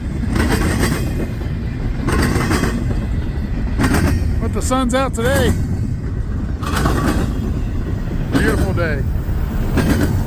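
A freight train rolls past close by in a stiff wind, with a loud continuous rumble and rhythmic wheel clatter, plus a few brief squeals and whines. Someone talks over it.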